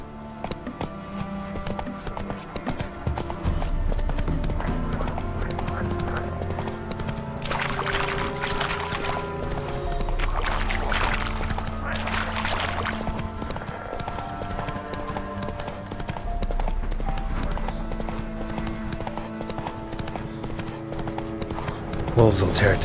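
Horse hooves clopping at a steady galloping rhythm in the video game The Witcher 3, running continuously under game music and voices throughout.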